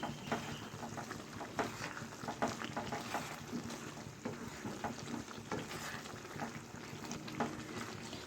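Chicken with potatoes and peas frying in a pan, a steady sizzle broken by scraping stirring strokes at an uneven rhythm, close up with no talk.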